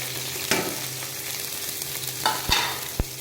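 Onion, green chilli and cumin seeds fry in hot oil with a constant hiss, while a spoon stirs them and knocks a few times against the pan. No one speaks.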